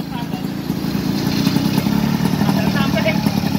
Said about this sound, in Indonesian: Kayak motor standar suaranya ini.